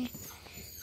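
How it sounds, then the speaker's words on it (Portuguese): A dog gives a soft, close whimper, a brief faint whine over quiet room background. "é minha cachorra aqui. É minha cachorra."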